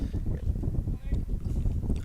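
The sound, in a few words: gust of wind at a baseball field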